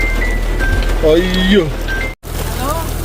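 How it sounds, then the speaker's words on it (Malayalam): Heavy summer rain in Dubai pours down as a steady, dense hiss throughout, with a person's startled exclamation over it. "ഇവിടെ ഭയങ്കര മഴ"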